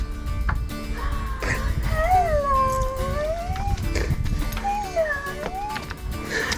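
A dog reunited with its owners after about three months apart howls and whimpers in long, wavering, close cries, rising and falling in two drawn-out bouts over low background noise.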